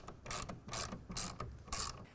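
A ratchet wrench tightens a bolt on the rail of a Gator EFX hard folding bed cover on a 2026 Chevy Silverado 2500, heard as four close bursts of rapid clicking with short pauses between, no talk.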